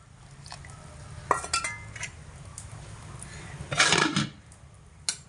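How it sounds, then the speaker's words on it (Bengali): A spoon stirs khichuri in a cooking pot, giving a few scraping, clattering strokes over a low background hum, with the loudest stir near the end. "হালকা একটু নাড়াচাড়া করে দেব"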